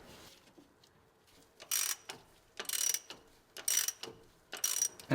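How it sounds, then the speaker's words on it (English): A ratchet clicks in four bursts as the harmonic balancer bolt on a 1980-1996 Ford Bronco or F150 engine is torqued down, each bout of sharp rapid clicks separated by short pauses, close and fairly quiet. "And torque down the harmonic balancer."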